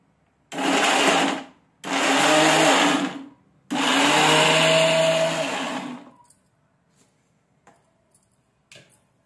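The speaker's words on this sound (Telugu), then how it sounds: "దీంట్లో ఇప్పుడు మనము టమోటా ముక్కలు తర్వాత చింతపండు కూడా దీంట్లో వేసి గ్రైండ్ చేయాలి" A mixer grinder whirs through tomato pieces and tamarind in three loud pulsed bursts with short gaps, then stops, leaving faint clicks and handling sounds.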